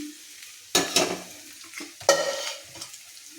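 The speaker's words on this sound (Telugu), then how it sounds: "దాంట్లో ఆయిల్ పోసుకుంటున్నాను" Oil being poured into a metal pot and heating for a tempering of spices, with two sharp clattering, sizzling bursts over a quiet kitchen background.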